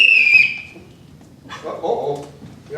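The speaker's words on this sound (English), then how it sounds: "Uh-oh, we have a whistle." A sharp, high referee-style whistle blast at an improv comedy show, followed by crowd murmur and background voices.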